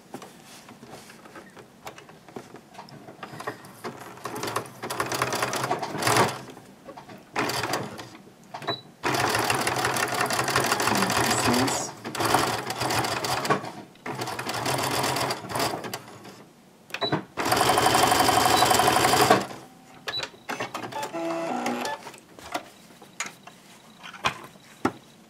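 Sewing machine running in bursts as it stitches a zigzag across fabric, loud and close, with short pauses between runs and brief sounds of handling the cloth.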